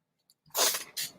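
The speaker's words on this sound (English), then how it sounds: "Feels like I got to sneeze." A single person's sneeze, close and fairly loud, with a short inhale and then a sharp burst followed by a second smaller burst.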